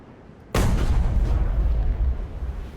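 A Jagdtiger tank destroyer's 12.8 cm gun fires once in a video game, a sudden loud close blast followed by a deep, sustained rumbling roar and reverberation that lingers without fading.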